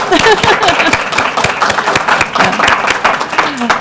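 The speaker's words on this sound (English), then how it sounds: "Yeah, let's applaud." Audience at a congressional briefing on personalized medicine and cardiology applauds, a dense, steady wash of many hands clapping loudly and close, with faint voices mixed in.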